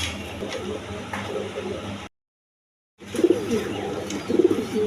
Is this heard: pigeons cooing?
yes